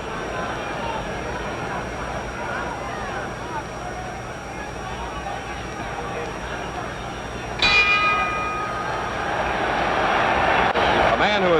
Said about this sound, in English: The bell in 10 seconds.